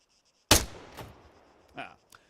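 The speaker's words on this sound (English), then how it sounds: "When you're ready, put some rounds down range." A single loud rifle shot fired on a firing range in the video game ARMA 3, followed by a decaying echo, a fainter second report and a brief trailing click.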